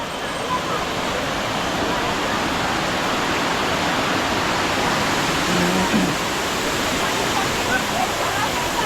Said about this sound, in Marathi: इथे उंच पाणी हे बघ